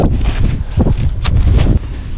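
Strong wind gusting across open ice at a hub shelter camp in extreme cold, a steady low roar buffeting the microphone with sharper bursts throughout.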